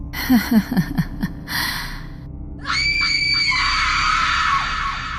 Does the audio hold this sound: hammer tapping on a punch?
no